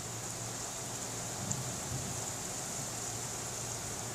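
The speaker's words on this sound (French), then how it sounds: "Et là, la pluie me gêne vraiment" Steady, even rain hiss in the Pokémon Revolution Online video game, a constant wash of noise across the whole stretch with a low hum beneath and no voices.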